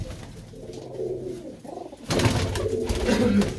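Pet pigeons of a local breed coo repeatedly at close range, quieter at first and then a fuller, louder chorus of throaty coos for the second half.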